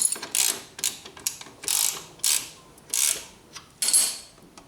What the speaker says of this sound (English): Now I'm going to use my ratchet.